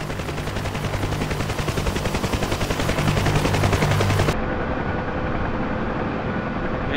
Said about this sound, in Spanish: Está subiendo el helicóptero.